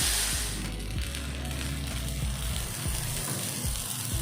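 Small uthappams fry on a hot pan with a loud, continuous close sizzle as they are turned over, with faint scraping under the steady crackle.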